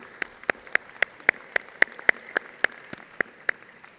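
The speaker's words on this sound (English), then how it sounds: "Let's continue the round of applause for our three student speakers." Sparse, evenly spaced claps from a small audience at a law school commencement ceremony, faint and rhythmic, with a soft room hum between the hand strikes and no talking.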